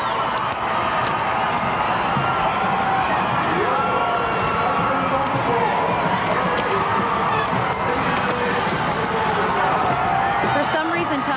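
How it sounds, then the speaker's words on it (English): A large crowd cheers President Clinton at his inauguration, a dense, continuous roar of shouting and noise with indistinct voices mixed throughout, steady and loud from start to finish. "The crowd is absolutely going nuts"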